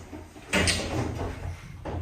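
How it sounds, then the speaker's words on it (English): An Otis lift from 2005 closes its sliding doors inside an abandoned department store, a rushing sweep followed by a quieter rumble and a soft final knock against steady low hum. "Doors closing."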